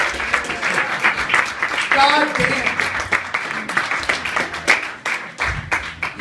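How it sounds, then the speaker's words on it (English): An audience applauds author Miracle Jones after a reading, brisk close clapping with individual claps standing out, while a voice briefly exclaims partway through. "Miracle Jones! Give a round of applause,"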